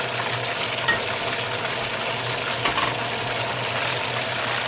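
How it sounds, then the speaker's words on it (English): Chicken wings fry in hot oil with a steady, dense sizzle and crackle throughout, with a couple of faint clinks. "I'm still frying the rest of the chicken"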